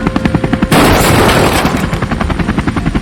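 A sudden loud boom bursts in over rapid rhythmic rotor-like thumping, its roar fading gradually while the pulsing continues.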